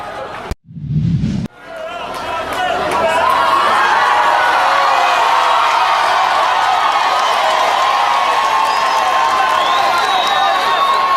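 A standing crowd cheers and applauds for Masséké's entrance, after a couple of short thumps the roar swells into a loud continuous ovation with whistles.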